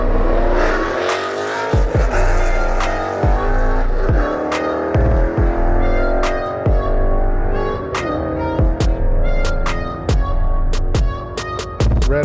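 Two Ford Mustangs launch and accelerate hard in a drag race at a Tucson street show. Loud engine roars rise and fall through repeated gear changes, with sharp pops and the rumble of the cars pulling away.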